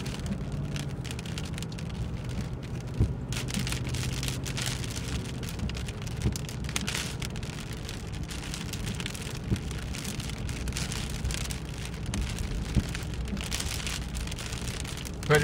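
Steady rain pours down in a dense, continuous hiss, with occasional louder drops tapping nearby and no voices.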